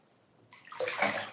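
A person lying in a bathtub splashes the bathwater, a soft slosh that follows a brief quiet and then swells into a close, bright run of splashing.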